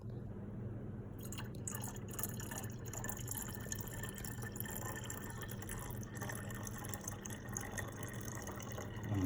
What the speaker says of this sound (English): Now I'm just going to pour it back in here carefully.